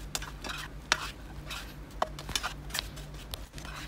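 Liver salad being tossed with shallots, spring onions, culantro and mint, giving soft, irregular stirring and scraping clicks of a utensil against a bowl, close by, with a steady low hum beneath and no talk.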